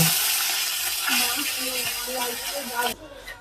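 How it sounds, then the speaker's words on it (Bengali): Tangra fish frying in oil, a close, bright sizzle with popping crackles that cuts off abruptly near the end. "ট্যাংরা মাছের ভাজা মাছগুলো সবগুলো ভেজে নেব"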